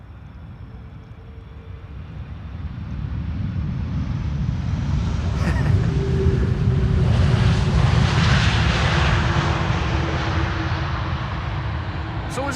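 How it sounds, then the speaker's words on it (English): A KLM Airbus A330-300 airliner arriving from Miami, landing with a broad, steady engine roar that swells loudly midway and holds without reverse thrust, heard alone without talk. "This is KLM flight 628, A330-300, arriving from Miami, Florida."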